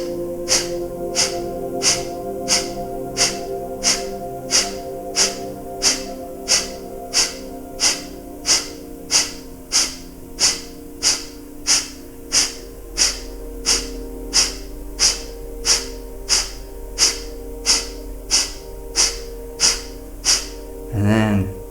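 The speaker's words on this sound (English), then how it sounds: "breath of fire." Kapalabhati breath of fire in a core-focused yoga class: rapid, forceful nasal exhales pulsing at an even, steady rhythm, about one and a half per second, loud and close over a soft background drone.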